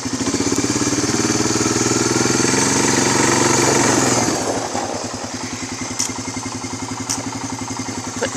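A quad bike engine runs close and loud, revving hard for several seconds before dropping to a steady, pulsing idle; a few faint clicks sound near the end.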